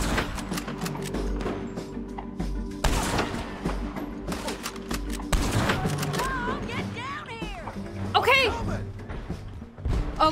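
Gunfire in Red Dead Redemption 2: scattered loud shots and heavier bursts ring out over background music, with people talking in between.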